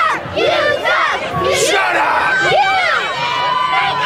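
Wrestling crowd at a Central Illinois pro wrestling event in Virden loudly jeering and shouting at a heel wrestler, a dense, sustained roar of many voices with rising boos and yells, close and continuous throughout.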